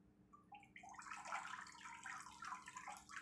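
Tap water runs steadily over non-organic broccoli being rinsed at a sink, a close, continuous splashing hiss that swells and dips without anyone talking.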